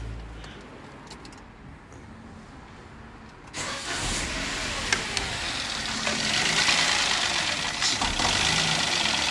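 A car engine cranking and catching, then settling into a rough, uneven idle in a garage, with a loud chugging rumble that continues steadily after the start.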